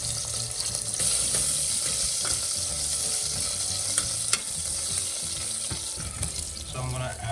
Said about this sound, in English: Now add garlic and ginger, and again going to saute a little bit.